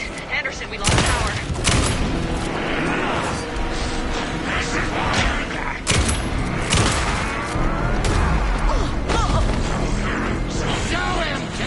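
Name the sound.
gunfire in video game Alan Wake 2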